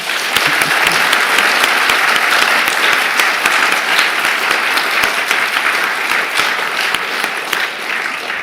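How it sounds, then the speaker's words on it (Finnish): Sustained audience applause after a university alumni lecture, a steady dense clapping from a full hall lasting over eight seconds with no talk over it. "Annetaan vielä aplodit."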